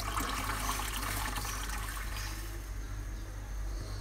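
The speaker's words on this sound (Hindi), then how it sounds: "अब इसमें थोड़ा और पानी ऐड करेंगे।" Water poured into a pot while making Kashmiri chai, a steady, fairly quiet splashing stream with a low hum underneath and no speech.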